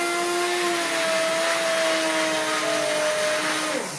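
A blender purées apple and cauliflower curry soup with onion into a creamy liquid. The motor whines loudly and steadily, then its pitch drops sharply as it winds down at the end.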